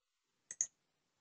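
Computer mouse clicking a software button, two quick close clicks in a quiet room, with no talk.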